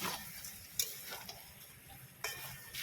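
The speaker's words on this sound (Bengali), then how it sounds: "মুসুর ডালটা দিয়ে ভালো করে একটু এর সাথে কষিয়ে নিচ্ছি" Washed masoor dal is stir-fried in a pan with a low, soft sizzle underneath. Several sharp spatula scrapes and clinks break through it, two of them louder, and no one speaks.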